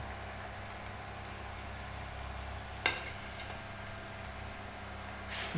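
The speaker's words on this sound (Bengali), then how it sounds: "ভালো করে নেড়ে চেড়ে নেবো এই জলের সাথেই আমি আলু মশলা আমি কষে নেব" Potatoes and ground spices (cumin, coriander, turmeric, chili) stirred in a pan with a little water, giving a soft, steady simmering sizzle with a single scrape of the spoon midway; faint and close, with no talking.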